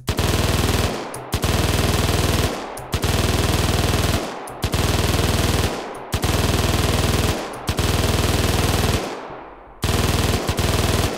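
Fast-firing weapon sound effects in Unreal Engine Quartz, loud sustained automatic bursts about a second long, separated by brief gaps, repeating steadily with no talk.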